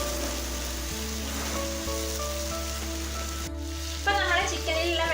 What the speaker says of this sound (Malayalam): ഈ ചിക്കനിൽ നിന്ന് ഇറങ്ങി വന്ന വെള്ളമൊക്കെ നന്നായിട്ടൊന്ന് വറ്റുന്നത് വരെ നമുക്കിതിനെ ഒന്ന് ഫ്രൈ ചെയ്തെടുക്കാം